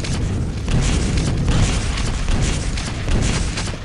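Rocket launcher explosions in the arena shooter Quake III Arena: a dense, continuous roar of booming blasts and game noise, loud and close throughout, with no talk.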